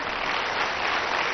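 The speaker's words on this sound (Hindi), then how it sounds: "जरा उनके लिए भी जोरदार तालियां बजा दो" An audience applauds B.Tech graduates seated at the back of a hall during a talk on education and spirituality, a steady, dense wash of clapping filling the whole brief stretch with no voices.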